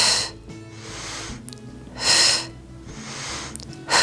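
Audible breaths during a Pilates leg-lift workout, strong airy inhalations and exhalations recurring at roughly two-second intervals, close and fairly loud, with no talking.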